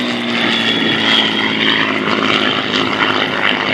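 A Spitfire's piston engine roars continuously through a loop and wingover at an air display, the Battle of Britain Memorial Flight at RIAT 2018, a loud, steady drone that swells and eases slightly with no talk over it.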